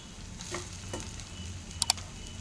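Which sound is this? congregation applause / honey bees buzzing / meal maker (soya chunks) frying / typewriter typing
meal maker (soya chunks) frying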